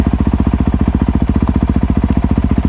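A Honda CRF450RL dirt bike fitted with a Rekluse clutch runs close and loud, its engine throbbing in a fast, even train of firing pulses that holds steady throughout, with no voices over it.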